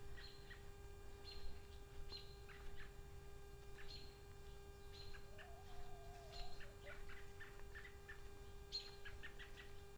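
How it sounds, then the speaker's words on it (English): Faint birds chirp in short scattered bursts at a distance among elderberries, over a steady electrical hum. "Birds are happy because they're in the elderberries."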